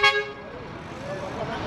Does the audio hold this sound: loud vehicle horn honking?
yes